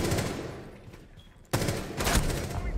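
Gunfire in the video game Rainbow Six Siege sounds as dense, loud bursts of automatic shots, with a volley at the start, a brief lull, then a sharp renewed burst continuing to the end.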